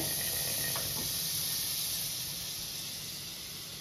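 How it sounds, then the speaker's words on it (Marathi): Butter melting in hot oil for masala rice, a close steady bright sizzling hiss that slowly eases in loudness, with no voices. "तेलामध्ये मी थोडंसं बटर पण टाकलंय"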